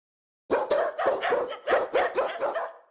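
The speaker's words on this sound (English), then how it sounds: "The barking alert is my favorite simply because it is completely different from anything that happens on my stream." A dog-barking donation alert sound for a livestream: a dog barks rapidly, about ten sharp barks in quick succession, loud and close, starting abruptly after a brief silence.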